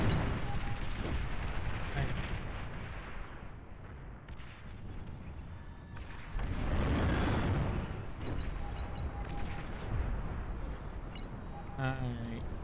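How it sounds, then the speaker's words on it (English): Bombing run explosions in a strategy video game form a dense, rumbling barrage of booms that swells midway. Constant battle noise and small electronic blips sit around the blasts. "a bombing run is happening, and they almost take down the T2 lab"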